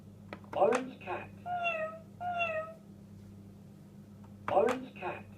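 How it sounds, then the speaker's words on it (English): A toy cat plays a series of short electronic meows, several separate bright mews spaced out with gaps of quiet, close and fairly loud. "Orange cat."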